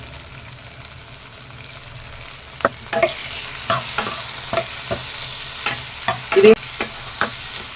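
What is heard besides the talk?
tomatoes added to sizzling okra frying in pan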